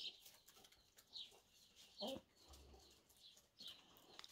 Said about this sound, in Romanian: Deci așa stau cloștile aici în coșarcă.